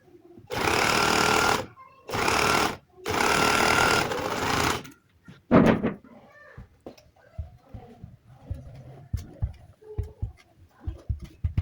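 A sewing machine stitching piping onto fabric runs in three loud bursts of rapid whirring with short pauses between them. Scattered clicks and handling knocks of cloth and machine parts follow.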